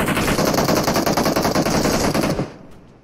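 Sustained automatic gunfire in the mobile game PUBG Mobile: a loud, close, unbroken burst of rapid shots lasting over two seconds, then stopping abruptly and leaving only a faint tail, with no voices.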